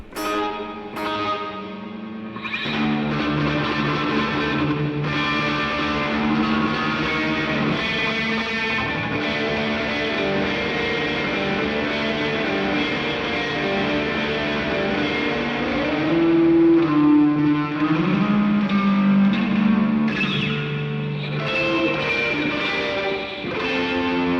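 An Old Blood Noise Beam Splitter effects pedal processes a guitar with a rapid-fire, spring-reverb-like repeating effect, sustained and fairly loud with distorted, shimmering tails and no talking.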